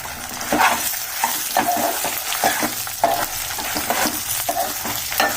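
Spice powder ingredients dry-roasting in a pan, with close, steady sizzling and crackling broken by repeated scraping stirs of a spoon, and no voices.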